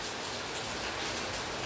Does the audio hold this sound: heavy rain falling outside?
yes